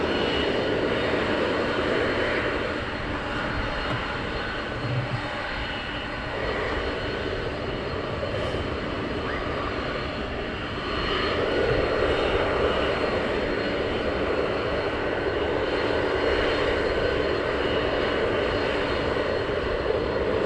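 F-15 fighter jets roar as they depart RAF Lakenheath, a loud, continuous thunder of engines that dips slightly and then swells again over about twenty seconds.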